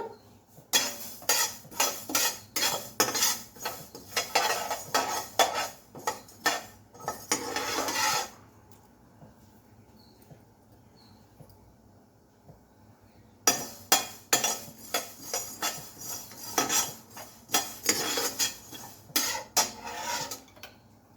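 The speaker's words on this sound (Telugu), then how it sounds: "ఇప్పుడు ముందు మెంతులు వేసుకుందాం, ధనియాలు ఈ 2 వేపుకుందాం ముందు" Fenugreek and coriander seeds are stirred in a metal pan, giving bursts of scraping, rattling clinks in two long stretches separated by a quieter pause, close and fairly loud.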